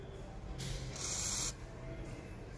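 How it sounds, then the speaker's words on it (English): Glue-softening spray hisses onto a Samsung Galaxy Note 10 Plus during a screen replacement, two short close bursts of an aerosol hiss in a quiet room, the second lasting about half a second. "This spray will make the glue become weak a bit."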